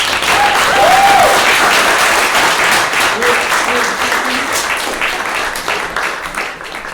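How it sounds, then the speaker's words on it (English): An audience at a law school mock trial championship bursts into sustained applause, loud and dense, slowly tapering off over several seconds with a few voices faintly underneath. "Let's give a round of applause to our two finalists."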